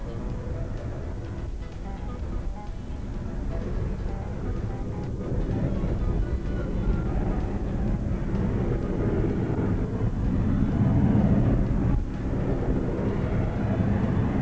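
A Harrier jet engine roars continuously and powerfully during a vertical takeoff at the 2000 Kecskemét air show, a thick sustained rumble that slowly swells in intensity over the whole stretch.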